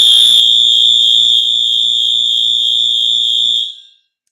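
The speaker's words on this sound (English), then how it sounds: "of course, they would pick today to be testing their fire alarms here" Fire alarm under test, a loud, piercing high-pitched electronic tone held steadily for over three seconds before cutting off into silence.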